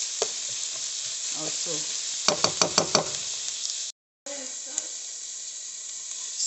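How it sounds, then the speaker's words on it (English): Onion frying in a pan for a Nigerian meat pie filling gives a steady, close sizzle throughout, with a quick run of sharp knocks from stirring midway and a brief dropout, while a voice talks over it. "we're going to fry this onion for about 2 minutes"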